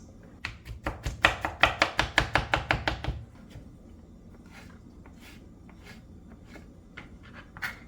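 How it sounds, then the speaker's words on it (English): A knife chops vegetables on a cutting board while mango salsa is being made for crab cakes: a quick, even run of about a dozen close, crisp chops, then quiet with a few faint scattered taps. "So everything needs to be cut up into smaller pieces"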